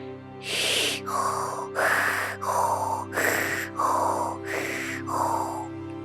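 A voice imitates heavy monster panting, repeated harsh in-and-out breaths in a steady rhythm, close and loud.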